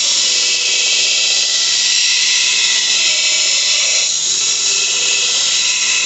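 Homemade 2x42 belt sander built with skateboard wheels cuts a groove, giving a loud, steady high-pitched whine with abrasive hiss that holds for several seconds with slight shifts in pitch under load.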